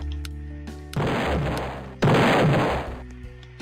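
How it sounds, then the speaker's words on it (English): Two loud booming explosions go off in quick succession as objects are destroyed in the Roblox game Lumber Tycoon 2, each a sudden heavy burst with a rumbling tail over faint game tones. "Every time I destroy something, there's an explosion."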